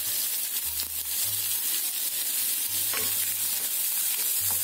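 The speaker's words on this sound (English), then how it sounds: "We'll fry the onion." Chopped onion fries in a hot pan for a street-style misal pav, a steady loud broadband sizzle running throughout with scraping stir strokes breaking through now and then.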